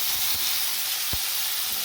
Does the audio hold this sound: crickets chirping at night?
no